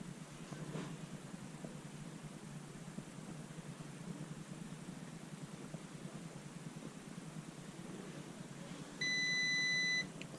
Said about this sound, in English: A lot of things on the dash are beeping away at you.